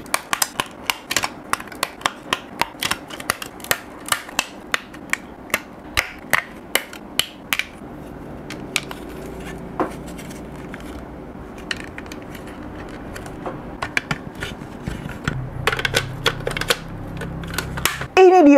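Plastic parts of a Minipla Go-Buster action base toy snap and click together, sharp rapid taps in bursts, then softer handling and rustling.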